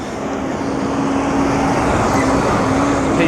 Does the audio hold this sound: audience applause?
no